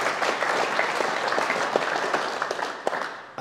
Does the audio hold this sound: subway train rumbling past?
no